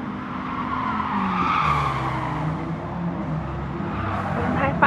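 Tires squealing as race cars in Gran Turismo Sport corner hard in an N300-class race, a continuous loud skidding whine over steady engine drone, with several cars jostling for the same bend.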